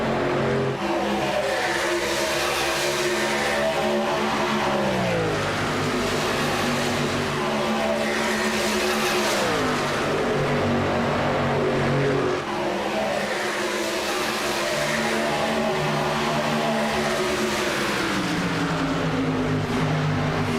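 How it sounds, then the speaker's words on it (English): Race trucks at a VSpeed Contender Series event roar around a track in a tight pack, engine notes rising and falling in repeated sweeping waves as they pass and accelerate, loud and continuous for about twenty seconds. "All of these trucks carrying some good speed tonight."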